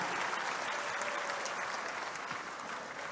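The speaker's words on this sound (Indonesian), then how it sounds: "Tepuk tangan untuk semuanya." Steady, dense applause from an audience at the inauguration ceremony for Partai Demokrat branch board officials across East Java, filling the full three seconds at an even, moderate level without pause.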